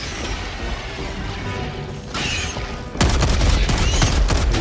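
Gunfire in the video game Helldivers 2 crackles in dense, rapid volleys, with crashing impacts. The shooting grows louder and heavier toward the end.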